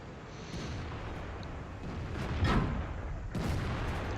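Cannon fire from a WZ-111 tier 8 premium heavy tank in a tank battle game, a couple of muffled booms over dense, continuous battle rumble, with a sharper blast near the middle and another toward the end.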